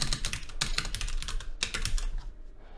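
Someone types steadily on a computer keyboard, a close and fairly loud run of key clicks in quick, uneven bursts, with no talking.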